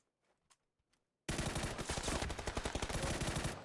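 Gunfire in the battle royale game PUBG during an esports match: a few faint distant shots, then a sudden loud sustained burst of rapid automatic fire rattling on for over two seconds.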